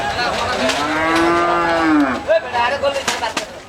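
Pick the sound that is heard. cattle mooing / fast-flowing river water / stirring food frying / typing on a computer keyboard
cattle mooing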